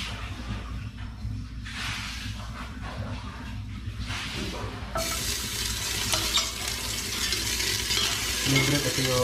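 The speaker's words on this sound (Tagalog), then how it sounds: "Pang gisa lang, kahit konti lang mantika para sa sahog natin." Ingredients being stir-fried in a small amount of cooking oil, with scraping stir sounds giving way to a louder, steady sizzle that builds halfway through and continues to the end.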